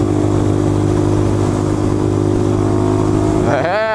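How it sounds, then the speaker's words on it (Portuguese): Steady engine drone of passing vehicles, with a motorcycle rumbling close by and a rising whine near the end as it revs. "É, trânsito frenético."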